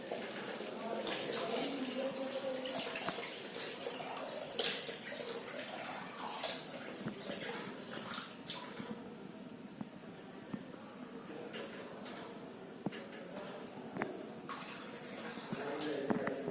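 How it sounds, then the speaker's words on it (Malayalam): Second coconut milk poured into a jackfruit payasam, giving a steady watery splashing and trickling pour that runs continuously at moderate level for the whole stretch. "ഇനി നമുക്ക് ഇതിലേക്ക് 2-ാം പാലും കൂടി ചേർത്ത് കൊടുക്കാം."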